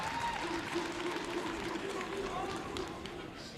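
An esports arena crowd roars and cheers continuously at a Call of Duty Major II tournament losers semi-final, a dense distant wash of noise under steady excited commentary.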